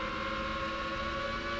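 A Formula One car engine in the PS1 racing game Formula One 2000 drones at a steady, quiet pitch with no breaks, heard alone without talk.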